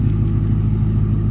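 A car fitted with a crate motor idles with a deep, steady low rumble, loud and close, with no speech.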